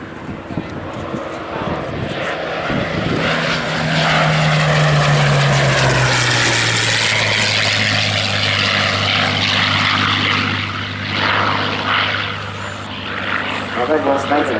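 Spitfire Mk.1 flying past at Old Warden, its piston engine and propeller roaring loudly, with a pitch that falls as it passes and then a steady drone as it moves away. A commentator talks over it.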